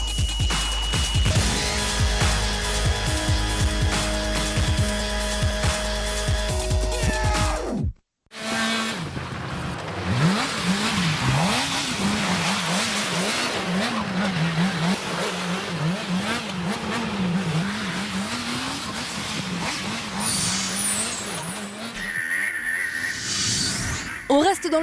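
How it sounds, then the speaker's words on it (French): Motorcycle drifting and revving on ice, its engine rising and falling in repeated rev surges over a steady drone, following a burst of music; a voice speaks over it. "Il fait lui aussi des dérapages complètement fous avec son deux roues."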